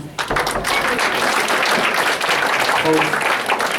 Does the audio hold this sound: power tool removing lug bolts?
no